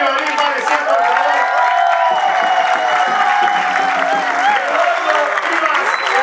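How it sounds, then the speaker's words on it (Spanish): Strong audience applause with cheering and whoops at a community gathering, steady clapping throughout with voices calling out over it. "Quiero que se pare y le demos un fuerte aplauso a Eduardo Vivas, área de medio ambiente, por"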